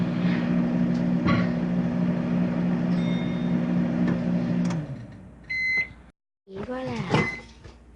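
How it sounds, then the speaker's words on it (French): A microwave oven heating candle wax hums steadily with a low drone, then stops with a door clunk and beeps, while someone speaks briefly near the end. "je vais la remettre dans le four micro-ondes"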